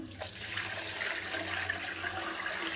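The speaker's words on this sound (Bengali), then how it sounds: "পানিটা দিয়ে দিলাম" Water pours into a pot of spiced dal mash in a home kitchen, a steady close splashing rush that keeps going without a break for nearly three seconds, with no talk over it.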